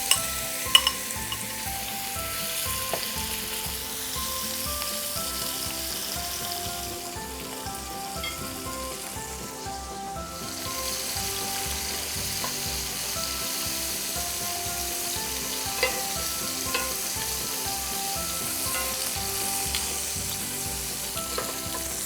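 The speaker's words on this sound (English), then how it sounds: "Once the oil is nice and hot, go ahead and add the shrimps." Shrimps frying in hot oil crackle and sizzle steadily at close range for the whole stretch, with occasional light clicks of the pan and utensil.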